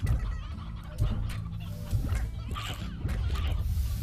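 Chickens cluck in the video game Slime Rancher, a busy stretch of short repeated clucks and squawks over steady game background sound, fairly close and continuous.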